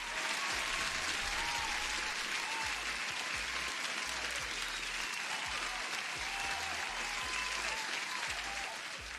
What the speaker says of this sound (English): applause for anyone right now who is here, and Miss Healthy FX as an OG deserves an applause as well